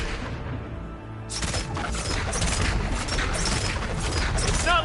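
Dense bursts of rapid gunfire and booms from the video game God of War Ragnarok roar loudly and continuously after a brief quieter start.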